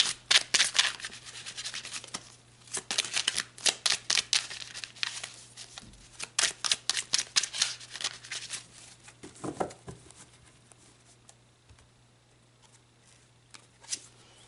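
Tarot cards being shuffled by hand, rapid papery riffles and slaps in quick bursts that slow and thin out toward the end, close and clear with no talking.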